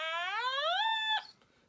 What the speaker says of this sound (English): If you've never heard an Otamatone before, they sound like this.